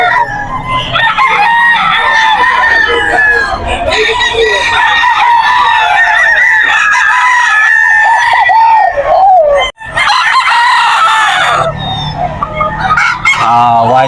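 A White Kelso stag, an eight-month-old rooster, crows repeatedly and loudly up close in a busy pet market, with other fowl clucking and calling around it and a brief pause near the end.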